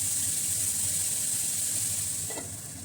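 Tomatoes fry in a covered pan, giving a steady, even sizzle and hiss close up that eases off slightly near the end.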